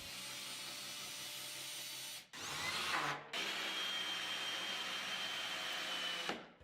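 A drill fitted with a Milescraft Drive 90 right-angle attachment gives a steady close whine in several runs, split by brief stops and a short changing-pitch burst as it bores into wood, with no voices.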